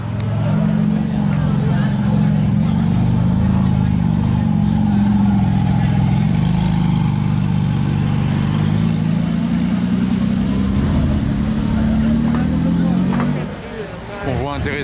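Hypercar with a modified, non-stock exhaust in a convoy at the Monaco Grand Prix, a deep loud engine drone rumbling steadily nearby while people talk over it.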